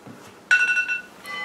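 A mobile phone alarm goes off suddenly, a bright electronic chime tone that starts loud, holds, fades, then sounds again as a second shorter tone, in a quiet room.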